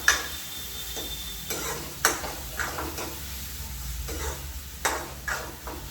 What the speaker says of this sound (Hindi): मसाला ऑलमोस्ट आधा भुन चुका है